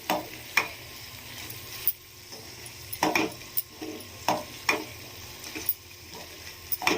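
A spoon scrapes and clinks around a pan of black chickpea curry just dusted with garam masala, giving sharp, irregular taps and stirring scrapes over a faint, steady sizzle, close up with no voices.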